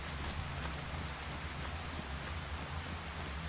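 Steady rain in the survival game DayZ, a dense even hiss of drops hitting surfaces with a low rumbling undertone, constant and uninterrupted throughout.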